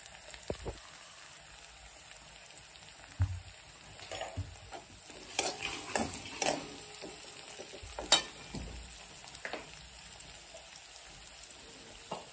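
A spoon stirs and scrapes through sizzling tomato masala with turmeric and black chili powder in a pan, faint frying crackle with scattered soft scraping strokes.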